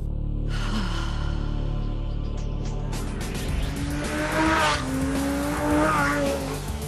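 A Lamborghini Gallardo SE with a 10-cylinder engine accelerates hard, its loud engine note climbing in rising revving sweeps that grow more intense over the second half, with no talking.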